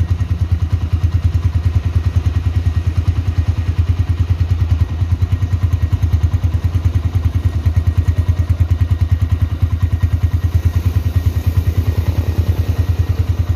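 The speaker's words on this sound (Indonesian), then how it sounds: "Ini stasioner sungguhnya seperti ini, halus tapi nggak mati" A 2014 Honda Tiger Revo motorcycle with low mileage idles steadily and smoothly, its close, even low thumping pulses running without pause the whole time.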